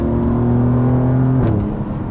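A 2025 Alfa Romeo Giulia Quadrifoglio engine and exhaust in race mode on a fast, flowing driving road, a loud sustained drone that holds steady then shifts pitch as revs change, close up with no talk.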